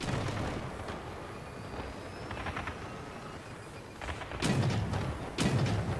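Mammoth cannons fire in the vehicle combat game Crossout, heavy booming shots with deep thuds, one big blast near the start and two more toward the end, over a rumbling battle din.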